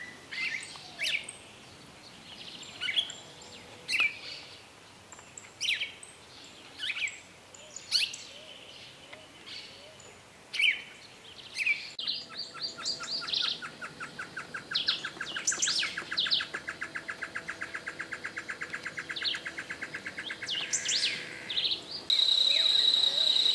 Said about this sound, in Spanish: La paloma picazuro y la paloma manchada recorren el árbol en busca